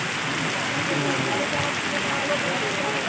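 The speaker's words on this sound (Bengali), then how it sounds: "আমাদের এলাকায় বৃষ্টি হচ্ছে আস্তে আস্তে হতে এখন আলহামদুলিল্লাহ ভালো করে হচ্ছে" Steady rainfall with scattered drops pattering on a surface, a broad constant hiss that stays close and fairly loud, no talking over it.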